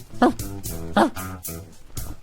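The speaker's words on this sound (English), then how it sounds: "The dog greeted Brian with a" A little purple dog with beige spots gives two or three short yips in greeting outside a black house, close and fairly loud, spaced evenly apart with faint background noise between.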